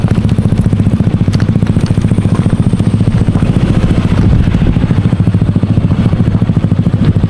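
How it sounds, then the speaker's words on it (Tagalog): A motorcycle engine runs close by at a parking area in Dingalan, Aurora, Philippines, with a loud, steady, rapid putter that holds throughout. "Ayun yung motor."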